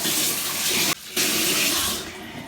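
Hot water running hard from a tap into a sink while makeup brushes are cleaned, a loud close steady splashing rush with one brief interruption near the start.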